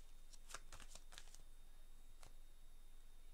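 An oracle card deck being shuffled, a quiet cluster of quick papery riffles and flicks followed by a single soft snap, close and faint with no talking.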